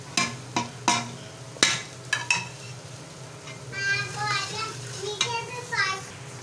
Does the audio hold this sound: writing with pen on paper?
no